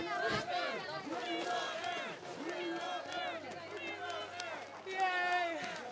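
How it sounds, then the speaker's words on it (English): Spectators chant a rider's name at a freeride ski competition at Kicking Horse in Golden, British Columbia: repeated rhythmic voiced calls rising and falling over a murmuring crowd, fairly close and lively. "we love Avan chanting from the crowd"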